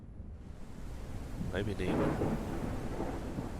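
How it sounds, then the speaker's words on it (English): Thunder from a storm in the video game Out of Ore rumbles low and steady beneath rain-like hiss, while someone speaks briefly over it. "Perfect timing for this bloody storm."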